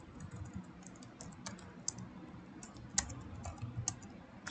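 An OSPF router configuration is typed on a computer keyboard, giving a quiet, close run of irregular key clicks with a few sharper taps, set over a soft background hum.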